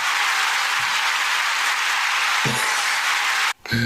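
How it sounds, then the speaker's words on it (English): Loud, dense applause welcoming a guest, a continuous wash of clapping that cuts off abruptly near the end. "9-second applause"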